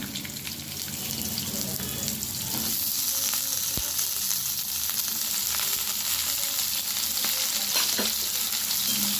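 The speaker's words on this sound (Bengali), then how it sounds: "আমি পটলগুলো ভালোভাবে ভেজে নেব।" Pointed gourd (potol) frying in hot oil in a kadai, a loud continuous sizzle and crackle with occasional sharper pops and stirring clinks, close by and without talk.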